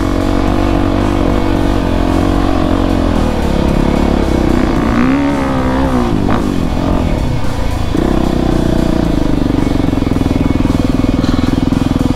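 Motorcycle engine on a sandy dirt track, droning loudly and steadily with rising and falling revs throughout, alone without talk.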